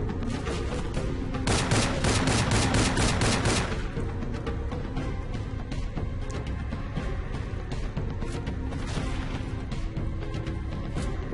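Gunfire in the video game Rogue Trooper: a dense rapid burst of shots up front, followed by scattered, repeated firing and impacts that continue at a lower level.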